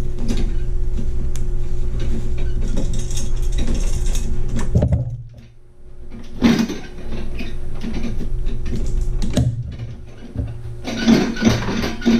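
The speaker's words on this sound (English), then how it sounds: "when I release these, you'll see I did it away" A Hooptech Gen2 embroidery hooping frame holding a hat works and releases, giving loud, close mechanical clatter and clicks over a constant machine hum, with a brief quieter dip midway and no speech.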